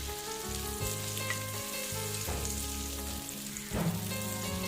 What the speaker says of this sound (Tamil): ஸோ ஃபர்ஸ்ட் வந்து இப்போ பட்டர் போடுறாங்க.